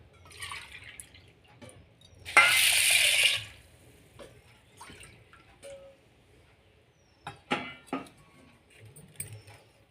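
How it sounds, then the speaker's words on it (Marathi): Sago pearls rinsed in water in a home kitchen: a short burst of splashing and swishing water amid quiet drips, light clinks and small handling noises, with no talking. "स्वच्छ धुवून घेते साबुदाणा"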